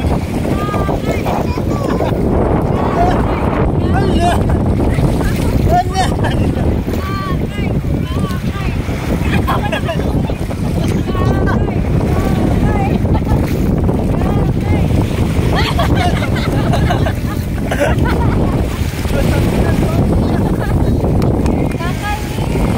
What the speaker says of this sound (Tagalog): Maliban sa preskong hangin, ako, napakasarap ng tubig, napakaalat.